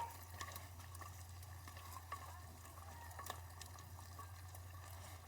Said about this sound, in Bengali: একটু নাড়িয়ে নিই।